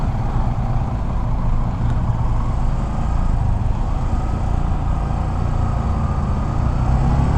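Heavy car traffic rolls along a Singapore road, heard from a motorcycle among the vehicles: a dense, steady low rumble of engines and tires that holds constant throughout with no break.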